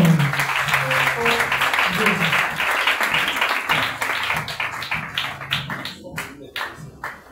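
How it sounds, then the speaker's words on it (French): A church congregation applauding loudly, a dense wash of clapping that starts amid voices and music, then thins toward the end into scattered, distinct claps. "Acclame très fort"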